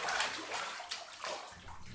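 Water sloshing and splashing in a bathtub as a sound effect in a children's book read-aloud, a soft sequence of wet swishes with no talk.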